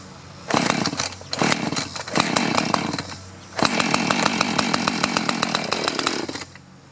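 A two-cycle chainsaw engine, brought back after long storage, catches with a few sputtering bursts, then settles into a loud, steady buzzing idle close by, with no voices.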